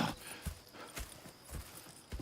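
Horse hooves clip-clop at an easy walking pace in the video game Red Dead Redemption 2, with steady, moderately close thuds and no talking.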